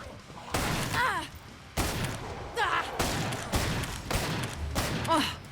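Winchester 1894 lever-action rifle fired in Killing Floor 2, five sharp shots spaced roughly a second apart, each followed by a ringing mechanical tail from the action.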